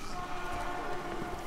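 A train approaches in the video game Resident Evil 6 as a steady, dense rumble and roar that fills the whole moment, with no pauses or talk over it.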